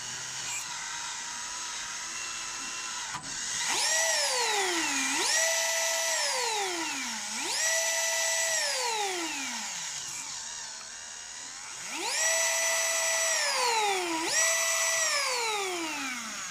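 Small electric motor of an RC car whining through a metal two-speed transmission, pitch sweeping up and down in repeated runs as gears shift between high and low, loud and close with no talk.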